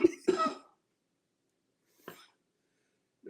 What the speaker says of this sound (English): I see you coughing, man.